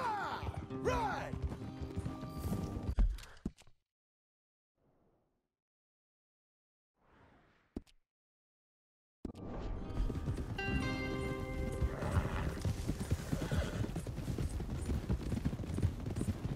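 Horses gallop in Red Dead Redemption 2, their hooves pounding beneath game music at the start. A silent gap with only faint brief sounds follows, then the galloping and music return, dense and continuous.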